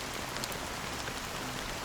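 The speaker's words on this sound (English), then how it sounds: "long has this rain been going on for?" Steady rain pours in a Honkai: Star Rail game scene, a dense, even hiss of falling drops filling the whole stretch with no voices.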